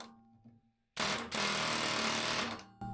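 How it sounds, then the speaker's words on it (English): A big air hammer pounds on seized, rusty shock bolts in the sleeve of a vintage Polaris RXL snowmobile's XTRA 12 skid, a loud continuous rapid hammering burst after a quiet start, cutting off abruptly near the end. "But the air hammer is solving the problem."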